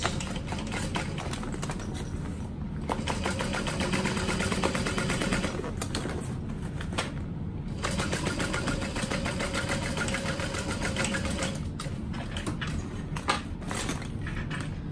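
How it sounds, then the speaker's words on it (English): A sewing machine runs a second line of stitching on a Louise barrel bag, a steady close mechanical whir with rapid needle ticking that pauses briefly a few times before resuming. "I'm gonna do a second line of stitch"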